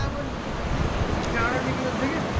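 Sea waves wash steadily beside a bridge on the coast in South Korea, a continuous broadband roar mixed with wind buffeting the microphone, with faint voices in the background.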